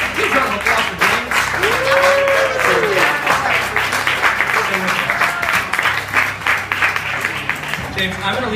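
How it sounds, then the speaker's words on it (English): Audience applause for a volunteer at a mentalist show, steady lively clapping throughout, with a voice and background music beneath. "Please round of applause for James."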